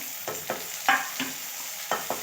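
Chopped onion and tomato frying in a pan for a Marathi chickpea-leaf bhaji, a soft steady sizzle broken by several sharp scraping stir strokes spaced through the clip, close up and without any talk.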